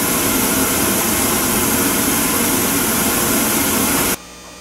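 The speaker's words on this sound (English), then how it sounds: "right now the burner is running, and it's going to run for about a minute or so without the air circulation fan going" A homemade waste-oil air heater burner roars steadily and loudly with a broad rushing, blower-like noise before cutting off abruptly near the end.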